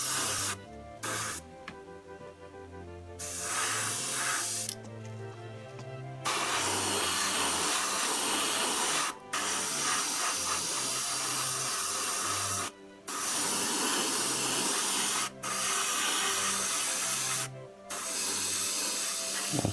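AK Real Colour lacquer acrylic paint is sprayed from an airbrush in long, steady hissing bursts, close and loud, broken by several short pauses between passes.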